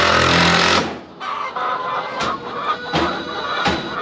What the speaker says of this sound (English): Just gonna be living with the chickens.